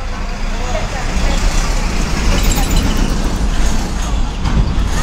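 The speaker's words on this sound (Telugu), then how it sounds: "వేమూరులో మనకు ఎదురొచ్చింది 2694 బస్సు" A bus, number 2694, passes on a village road near Vemuru on the Repalle route, making a loud, steady broadband roar of engine and tyre noise that fills the whole stretch.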